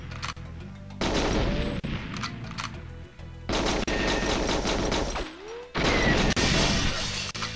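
Gunfire and explosions in a custom Library level of the video game GoldenEye 007: loud rapid shooting in dense bursts, mixed with crashing booms and shattering impacts, separated by short quieter gaps, with no speech.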